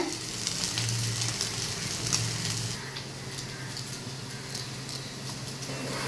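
Bitter gourd pieces frying in hot oil, a dense continuous crackling sizzle that stays steady and close, with a few faint stirring knocks early on and no talk.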